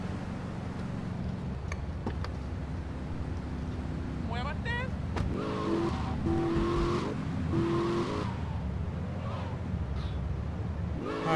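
A sports car engine in Grand Theft Auto: Vice City revs and whines, gear changes rising in pitch, with tire noise beneath and someone talking over it.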